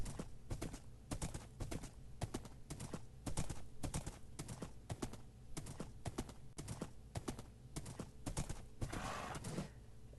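A horse gallops in Minecraft, producing a quiet, rapid, even run of clip-clop hoofbeats that continues throughout without pause.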